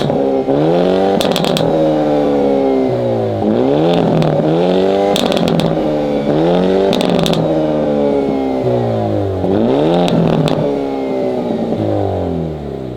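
A 2022 VW Golf R MK8 and a Hyundai Elantra N DCT drag racing, loud close engines revving hard and climbing through repeated upshifts, pitch dropping and rising again with each gear change, no voices.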